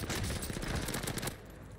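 Rapid burst of automatic fire from the new RA 225 submachine gun in the Warzone video game, a dense rattling volley for about a second and a half before easing into quieter game ambience.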